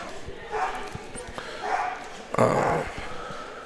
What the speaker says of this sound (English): are there dogs on the stream?